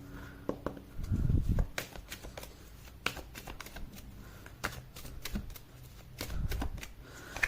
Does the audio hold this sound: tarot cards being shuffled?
yes